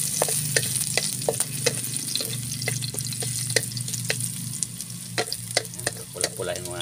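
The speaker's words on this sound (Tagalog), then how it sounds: "Gigisa muna natin luya sa suso para yung lansa mawala." Ginger and snails sizzle in a hot pan, a steady frying hiss broken by sharp stirring clicks and scrapes of the utensil, close and moderately loud with no speech.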